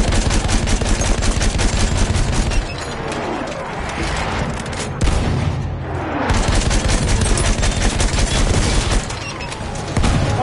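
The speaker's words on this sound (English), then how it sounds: "Machine gun!" Rapid bursts of machine gun fire in the Battlefield 1 Operations battle, loud and dense, with sustained rattling volleys that briefly thin out before resuming alongside distant booms and explosions.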